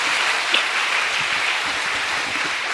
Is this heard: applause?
yes